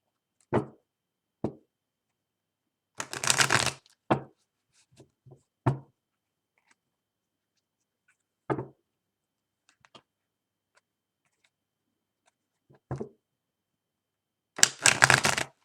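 Tarot cards being shuffled by hand in short, separate bursts of riffling and tapping, close and crisp, with quiet pauses between each shuffle.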